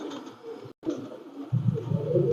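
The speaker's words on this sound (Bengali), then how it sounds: "পিপলাওয়ালা কবুতর" A Pakistani Peepal-wala pigeon, a female, coos in short low throaty bursts close by, the cooing growing louder toward the end.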